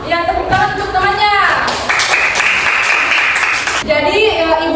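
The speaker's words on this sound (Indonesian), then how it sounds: "tepuk tangan untuk temannya" Classroom students applaud their classmates' presentation, a burst of clapping in the middle of the moment with a teacher's voice before and after it.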